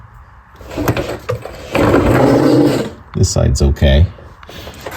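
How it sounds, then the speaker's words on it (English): Scraping, rolling rasps of a mechanic's creeper moving under a car, coming in uneven bursts close by, with someone speaking briefly. "sorry about the noise of the creeper"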